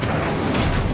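The Incendio fire spell cast in Hogwarts Legacy, a dense roaring whoosh of flame that fills the whole second at steady loudness.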